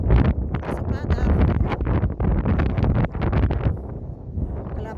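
Gusty wind buffets the microphone outdoors in a cattle pasture, a steady rumbling roar throughout with brief lulls, while someone talks over it.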